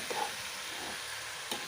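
Soaked rice stirred and fried in a pressure cooker for pulao, giving a steady soft sizzle with faint scraping stirs, fairly quiet and close, with no talk.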